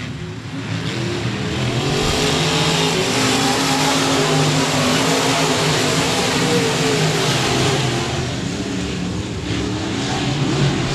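Race cars on the restart at 67 Speedway of Texarkana, a dense, continuous roar of engines accelerating together at a dirt oval, loud and sustained throughout with no voices.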